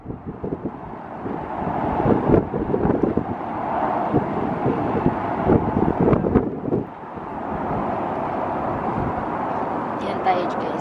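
Wind buffets the microphone in low, gusty rumbles outdoors in Kuwait in summer, rising and falling throughout as a voice talks at times.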